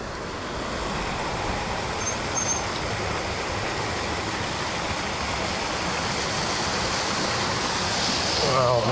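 A 20-inch 48V fat tire e-bike splashing through water on a night ride, producing a steady loud rushing, hissing wash of spray close by that swells slightly toward the end.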